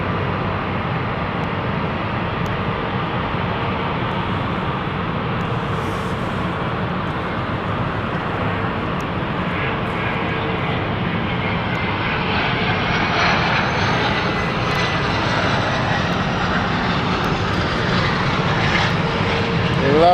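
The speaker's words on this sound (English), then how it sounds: "Lovely touchdown." A fixed-wing airliner lands at London City Airport, its engines a loud, steady roar that rises and broadens toward the end of the approach and touchdown, close and continuous with no talk over it.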